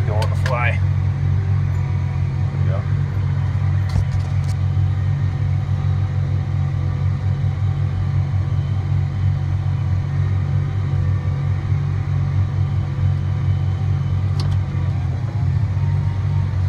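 Tractor pulling a disk harrow across a field, a deep, steady engine rumble droning close and constant throughout, with a voice talking over it.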